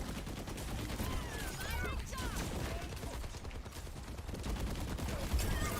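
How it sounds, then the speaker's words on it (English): Rapid, faint gunfire hits Orisa's shield in Overwatch as a continuous crackling fusillade with bursts of shots layered over a busy background. "I'm just literally shooting the shield, and Orisa is just standing next to a wall"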